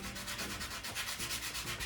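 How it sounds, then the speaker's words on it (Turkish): Steady rhythmic sandpaper rubbing on the corners of painted furniture, back-and-forth strokes close by with a rasping hiss, continuous and fairly quiet, no voices. "Çok fazla yoğun olmasını istemediğim için önce köşelerde zımpara işlemi yapacağım."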